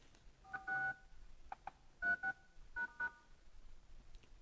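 A phone keypad sounds a series of DTMF dialing tones as a code is entered on a Yes Altitude 4 handset, about six short beeps in uneven groups, clear and close with no talking.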